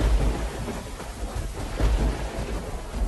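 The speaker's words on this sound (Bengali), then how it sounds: "সেদিন রাত থেকে মুষলধারে বৃষ্টি শুরু হয়।" Heavy rain pours through the night in an animated folk-tale scene, a steady dense roar with low rumbles suggesting thunder, loud and continuous with no voices.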